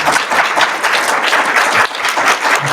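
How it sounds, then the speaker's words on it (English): An audience at a NIME 2025 conference paper session applauds a speaker, dense and steady clapping from a full room that holds at an even level throughout. "round of applause for Matt"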